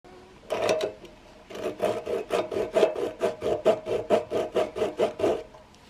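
A knife shaves down the sides of a carved wooden spoon-fork in a quick, even run of about fifteen rasping strokes, close and fairly loud, after a brief pair of opening scrapes.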